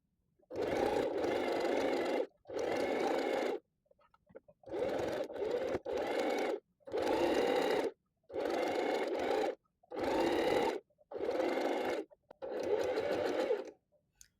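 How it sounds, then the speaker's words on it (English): A sewing machine runs in eight steady bursts of a few seconds each while stitching gathering lines through fabric, close and loud, with short quiet pauses between runs and no talking. "So I'm going to do 2 lines all the way around"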